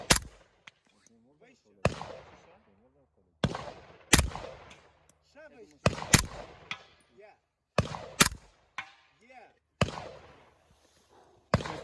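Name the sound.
gunshots from a firearm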